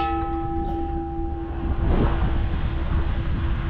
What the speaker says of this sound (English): Now I've found myself some bells and I'm like a big kid